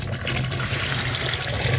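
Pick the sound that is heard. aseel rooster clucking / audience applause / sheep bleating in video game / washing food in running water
washing food in running water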